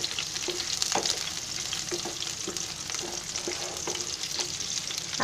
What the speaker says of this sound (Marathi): हा कांदा आहे ना चांगला भाजून घ्यायचा लाल होईपर्यंत.